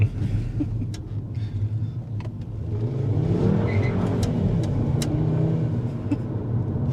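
A Volkswagen 5-cylinder 07K car with old, hardened tires revs and rumbles up close, the engine note building and holding in a steady roar with a few sharp ticks over the top and no talk.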